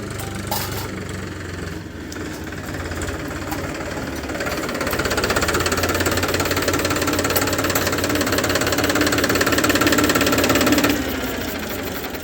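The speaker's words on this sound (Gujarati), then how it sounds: "ટ્રેક્ટર હાંકીને આવે છે" A tractor rolls up on a farm and settles into an idle, its engine a steady, loud, knocking chug that grows fuller midway and then drops slightly near the end.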